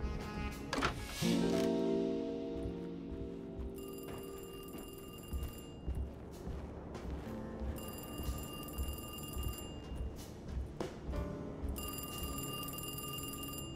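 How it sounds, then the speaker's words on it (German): A telephone rings in the survival horror game Alone in the Dark, with repeated bursts of bright electronic ringing at steady intervals over dark, rumbling game ambience. "Jetzt Telefon auf einmal."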